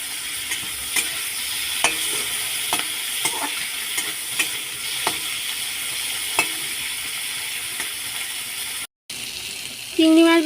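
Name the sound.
spiced shrimp frying in mustard oil in a wok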